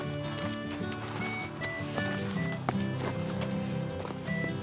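Strawberry the horse walking with a young rider aboard: rhythmic hoof clip-clops repeating steadily, close and moderately loud, over a bed of music.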